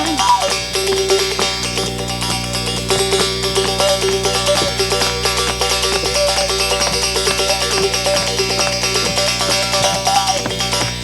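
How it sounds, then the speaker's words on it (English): A mouth bow twanged in a steady, busy stream of plucked tones, the player reshaping the mouth cavity so the overtones shift and warble above a sustained low drone, played alone without singing. "you can get a great sound out of one of these mouth bows"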